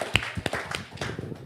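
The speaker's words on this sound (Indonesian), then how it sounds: "kita tepuk tangan untuk para punggawa ini" A few sparse, close claps ring out from an audience at a Jakarta transport workers' event, irregular and brief rather than a full ovation, with quiet background noise between them.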